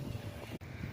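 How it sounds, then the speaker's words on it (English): Steady wind and rain outdoors on a dark, stormy day, a continuous rushing noise with low gusty rumble and a brief dropout midway, no voices. "it is raining and it's real dark and windy outside"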